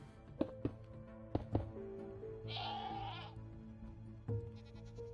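A goat in the video game Minecraft gives one drawn-out wavering bleat over a humming tonal background, with a few sharp thuds before it and another after, and no voices.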